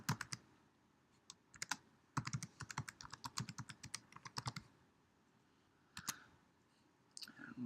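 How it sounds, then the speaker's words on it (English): Keys clatter in quick bursts of typing on a computer keyboard as a password is entered, close and crisp, with short pauses between runs of clicks and no talking. "We'll just type in a password."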